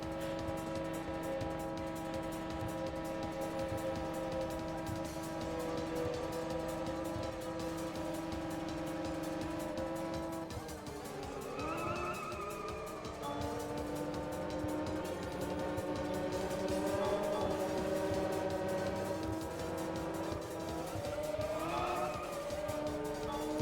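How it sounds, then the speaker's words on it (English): Car engine audio from the GT Cube GameCube racing game plays inside a tunnel, a harsh sustained synthetic drone with steady harmonic tones that bend and sweep in pitch partway through, continuous and unbroken. "Man, this sound effect sounds horrible. This car specifically in the tunnel."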